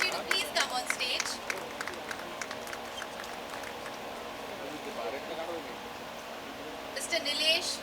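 An audience at the Jashn-E-Inquilab stage event applauds a guest being welcomed, with a burst of clapping at the start that fades under an announcer's voice and swells again near the end.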